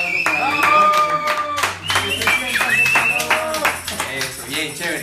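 A studio audience on a Spanish-language talk show claps in bursts that rise and fall, mixed with a voice and other voices talking over it.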